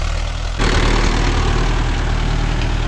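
A Mahindra Yuvo Tech Plus 585 4WD tractor engine running steadily at 1200 rpm, close and loud, a low rumbling drone that steps up slightly in level after a moment and then holds even, with no voices.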